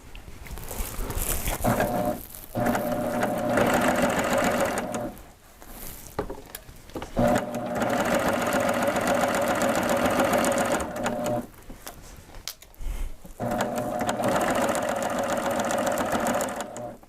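A Babylock sewing machine stitches a 3/8 inch seam on a reversible placemat, running in steady loud bursts with a few brief pauses between them, close to the listener.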